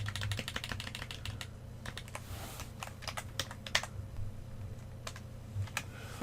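Rapid keystrokes on a computer keyboard while configuring an Azure VPN connection, a steady run of close, crisp clicks with brief pauses and no talk.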